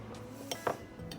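A spoon stirring ground spices together in a dish for golden milk, giving a few light scraping clinks against the container, brief and close, with no talking.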